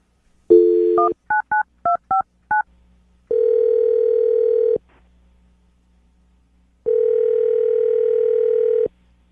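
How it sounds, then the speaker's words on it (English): A telephone number is dialed as a quick run of DTMF keypad beeps, seven short tones in an uneven rhythm, followed by two long, steady ringback tones with a pause between them, clear and close with no voices. "I'm going to dial the phone number right now"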